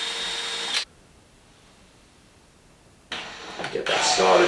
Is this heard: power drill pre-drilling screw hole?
yes